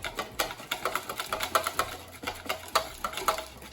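Whipped cream sweetened with sugar and dusted with chaat masala is stirred in a bowl, giving a steady run of quick, close scraping and tapping strokes in an even rhythm with no talking.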